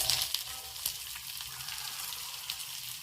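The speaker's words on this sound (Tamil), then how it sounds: "கொஞ்சம் அதோட பெரிய வெங்காயத்தையும் தாளிச்சுட்டு கருவேப்பிலையும் சேர்த்து போட்டுறோம்" Onion and curry leaves frying in hot oil for a Tamil potato fry, a loud, dense, close crackling sizzle with scattered sharper pops throughout.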